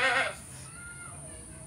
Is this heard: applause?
no